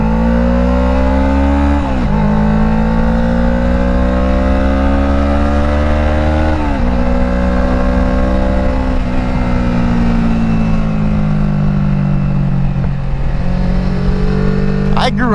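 A motorcycle engine revs hard while riding, loud and close. Its droning pitch climbs repeatedly, with several brief drops between gears, and it continues without pause.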